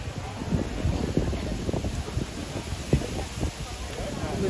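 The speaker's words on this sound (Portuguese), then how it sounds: "Começou a ventar bastante, pessoal." Strong wind gusting across an outdoor plaza, buffeting the microphone with a rough, continuous rumble while a person talks over it.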